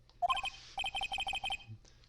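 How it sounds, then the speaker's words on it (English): Electronic phone ringtone from the Phoenix Wright: Justice for All video game, a bright repeating melodic chime in two rapid bursts separated by a short pause, heard alone and fairly close. "I bet it was this ringtone that caused it."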